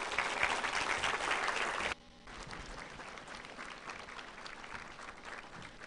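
Audience applause welcoming Dallas County Judge Clay Jenkins at the Dallas Kids Count 2016 event, a loud dense burst of clapping that cuts off sharply after two seconds and gives way to softer lingering claps and room murmur.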